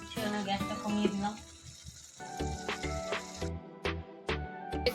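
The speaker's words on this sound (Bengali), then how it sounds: "দেখছে কিরকম বক বক করে ফুটছে" Onion-spice masala fries and bubbles in a pan with wet, popping sizzles that come in irregular bursts, close by, while a voice talks over it.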